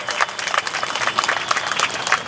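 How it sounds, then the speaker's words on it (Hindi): Crowd applause at a Bharatiya Janata Party political rally in Hisar, a dense, steady clapping from many people, loud and sustained throughout with no talk over it. "जोरदार तालियां।"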